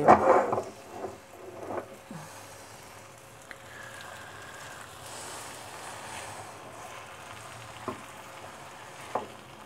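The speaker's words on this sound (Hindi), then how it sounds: "हम भिंडियों को ऑयल में अच्छी तरह से भूनेंगे" Okra fries in hot oil in a home kitchen, a soft sizzle running throughout with a louder burst of stirring at the start and a few light clinks of a utensil against the pan.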